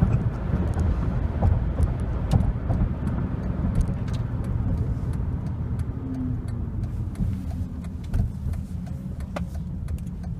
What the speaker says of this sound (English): I was spinning it in fourth gear.